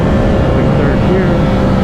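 A 2024 Yamaha R7 motorcycle engine pulls hard in third gear on the Laguna Seca track, a loud, steady, buzzing roar heard from the rider's position with wind rush throughout.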